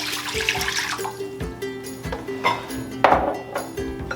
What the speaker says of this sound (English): I'm gonna start off with 2 cups of water.